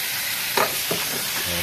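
Squid adobo sizzles in a pan while being stirred. It is a short, close burst of frying hiss with a couple of quick scraping strokes.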